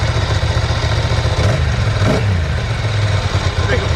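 A rebuilt 1998 Ducati ST2 sport-touring motorcycle with a dry clutch, its engine running loud and close, idling with a short rev rising and falling near the middle, while people speak over it.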